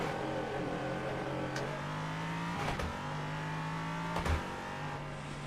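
A race car engine drones steadily in a wet-weather racing game at Daytona, a sustained hum with shifting pitch and a couple of brief louder surges, moderately quiet and unbroken.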